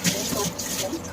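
Water pours into a pan of masoor dal cooked in ghee, a brief, steady rushing splash close by.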